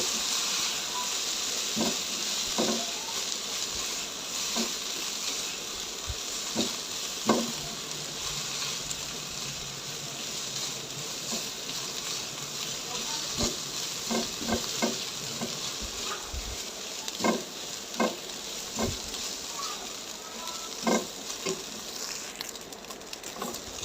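A filling with chili sauce and soy sauce is stir-fried in a pan, a soft steady sizzle with scattered clicks and taps of a spatula against the pan throughout, no talk.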